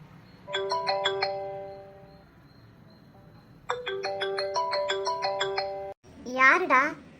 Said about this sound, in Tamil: ஃபோன் அடிக்குதுல பார்க்கல?